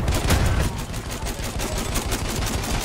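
Sustained enemy machine gun fire in a Battlefield 1 multiplayer match, a dense, continuous rattle of rapid shots with steady loudness throughout and no speech.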